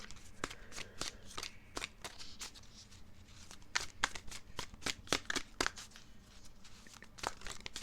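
Tarot cards being shuffled by hand, a quick series of crisp riffling snaps and slaps at an uneven rhythm, close and fairly clear over a quiet room.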